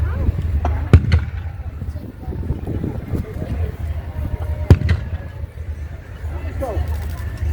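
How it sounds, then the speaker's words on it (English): 3-inch mortar firing at a WW2 reenactment weekend, two sharp booms about four seconds apart over an outdoor rumble, with people talking throughout. "So, that was the 3-inch mortar."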